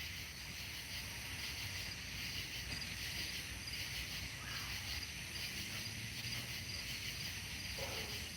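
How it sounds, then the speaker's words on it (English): Night air in Missouri carries a steady chorus of frogs and insects, a dense continuous trilling and chirring held at an even, moderate level with no one speaking. "you can hear the night sounds, the frogs"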